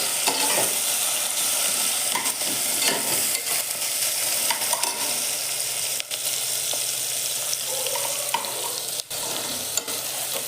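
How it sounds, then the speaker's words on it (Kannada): Onion frying in a pan for kichadi, browning toward golden: a loud, dense continuous sizzle close up, broken by frequent scraping stirs of a spoon. "ಆಮೇಲೆ ಸ್ವಲ್ಪ ಈರುಳ್ಳಿ, ಆಮೇಲೆ ಇದನ್ನು ಕೆಂಪಗೆ ಗೋಲ್ಡನ್ ಕಲರ್ ಬರೋವರೆಗೂ ಇದನ್ನು ಹುರ್ಕೊಳ್ಳಿ."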